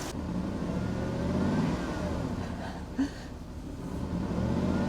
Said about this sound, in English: Rev up this one.